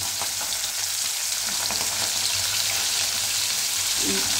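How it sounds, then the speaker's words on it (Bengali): Fish heads sizzling crisply in hot oil in a pan for a Bengali kalia, a steady loud crackle with occasional stirring scrapes, no voices. "আর একটু কড়া করে ভাজা হোক।"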